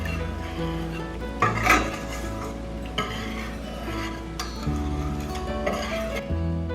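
Cocoa powder, two tablespoons of it, being whisked into milk in a pan on the stove, a steady scraping and clinking of the whisk against the metal that runs throughout with a few louder knocks, close and with no talk.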